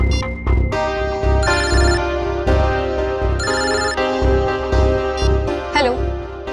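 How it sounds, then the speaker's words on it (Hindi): A phone ringtone plays as a call is placed, a melodic repeating tune with bright stabs pulsing several times, fairly loud and clear with no talking over it. "मैं अभी नम्रता को फोन करता हूँ।"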